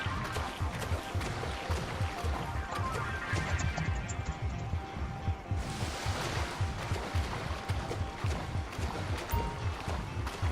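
Ocean waves surge and crash in the GTA 5 video game, heard as a continuous rolling wash with rhythmic splashes, moderately loud throughout and with no clear talk.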